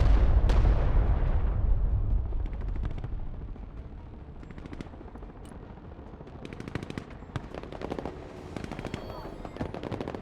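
Video game warfare with cruise missile strikes: rapid volleys of explosions and sharp gunfire-like cracks, loud at first and then continuing as a dense, irregular barrage through the whole stretch, with a voice talking over it.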